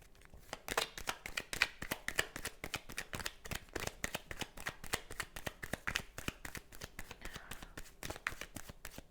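Cards from a 77-card tarot deck are shuffled at close range before a reading: a long run of quick, crisp riffling flutters and soft slaps in an irregular rhythm, fairly quiet and heard alone without talk.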